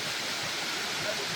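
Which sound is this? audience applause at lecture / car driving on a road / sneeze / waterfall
waterfall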